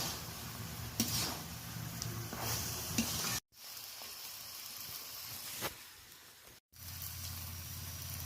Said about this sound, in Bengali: এবার এটা ভালো করে একটু নাড়াচাড়া করে নিচ্ছি।